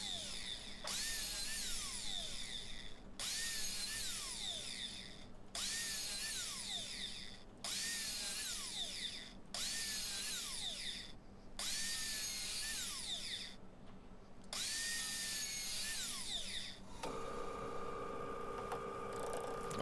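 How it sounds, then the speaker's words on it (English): Wood lathe turning a large yew lamp base, with repeated cutting passes that swell and drop in regular bursts over a constant motor hum, followed by a different steady whir near the end; no talking. "Okay, so we're starting out on the lathe. We're making the base."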